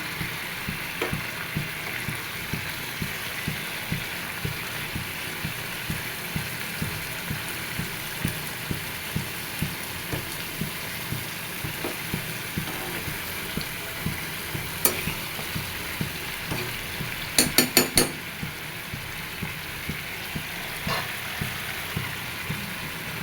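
Fried fish pieces go into a home cooking pan with boiled bottle gourd, giving a steady close sizzle with rhythmic stirring scrapes and a brief cluster of sharper clinks midway.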